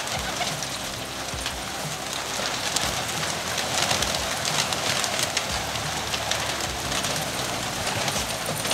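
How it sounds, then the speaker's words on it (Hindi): A large flock of domestic pigeons in Peshawar taking to the air, a dense, loud rush of beating wings that fills the scene continuously, with faint coos mixed in. "अभी हमारे पास 800 कबूतर हैं तकरीबन, और 700 तो ये मैं उड़ा रहा हूँ।"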